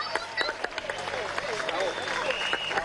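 Applause from a crowd at an official commemoration ceremony, heard as a moderate, continuous rattle of clapping with a murmur of voices and a faint tone underneath.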